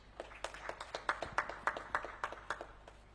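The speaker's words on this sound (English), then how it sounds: "Let's give him a round of applause" Audience applause closes a conference on promoting potatoes, with a short run of separate, fairly faint claps spaced across the moment rather than a dense ovation.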